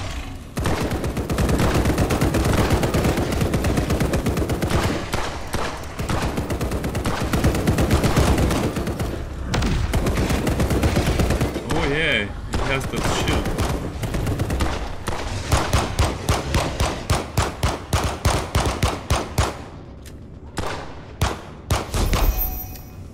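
Gunfire in the video game Blackout Protocol comes as sustained loud automatic bursts and rapid single shots over many seconds. Near the end the firing thins into scattered separate shots and thuds.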